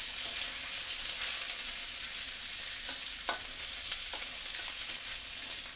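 Ginger and green chillies frying in hot oil with cumin in a pan for a fish curry, a steady close sizzle with a few soft stirring scrapes and no talking.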